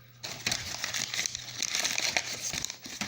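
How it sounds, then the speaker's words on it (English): Bubble wrap and packing paper crinkle and crackle around a Sony Xperia XA1 Ultra phone as it is unwrapped, a close, busy run of crisp rustling bursts with no talking. "I'm gonna go ahead and take it out of the bubble wrapping."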